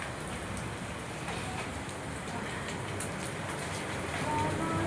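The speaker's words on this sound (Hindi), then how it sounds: "वाओ ये बारिश लेकिन हमारी तरफ क्यों है" Steady rain pours down outdoors in a continuous dense hiss with scattered drops spattering on surfaces, even and unbroken throughout.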